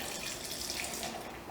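Syrup for a mirror glaze being poured onto chocolate and condensed milk, a steady, continuous liquid pouring and trickling sound heard up close, with no talking.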